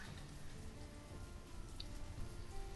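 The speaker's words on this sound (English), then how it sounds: "It's starting to rain." Rain weather effect in the village-building video game Banished, a dense, even hiss of steady rainfall with faint patter, continuous and unbroken, no voices.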